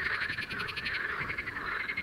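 Frogs croaking in a pond during the mating season: a steady, dense chorus of rapid, rattling calls that keeps going without a break and is fairly close.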